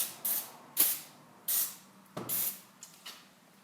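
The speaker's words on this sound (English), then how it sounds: "You want to spray the lubricant where the hinges pivot, as well as where the rollers enter and exit the hinge." Short hissing bursts of spray lubricant hit garage door hinges and rollers, about six quick, fairly faint puffs at uneven intervals with quiet gaps between, no talking.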